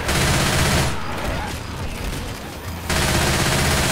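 Pump shotgun gunfire in the video game Left 4 Dead 2, heard as a loud, dense burst of shooting and chaotic combat noise, dipping briefly in the middle before picking up again.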